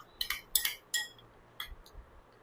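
Utensil clinks against a vessel while a no-stove sambar mixture with curry leaves and coriander is stirred, a handful of bright metallic taps in quick uneven succession, close and alone.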